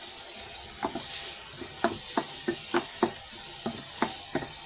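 Onions and tomatoes sauté in a pan with a steady sizzling hiss, cut by a series of light, evenly spaced utensil taps and scrapes from stirring, with no voices.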